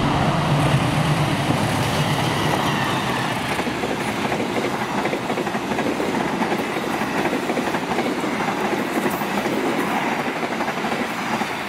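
A train rolls past near Karawang station in Indonesia as a dense, continuous rumble with clattering wheels, loud and close throughout with no pause.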